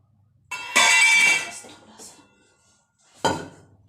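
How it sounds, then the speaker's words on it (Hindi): A kadhai is handled on the stove to pour in refined oil for frying pakoras, with two sharp metallic clanks and scrapes close by, the first longer and louder, separated by quieter rattling. "पहले डाल लेते हैं कढ़ाई में रिफाइंड, पकौड़ियों को निकालने के लिए।"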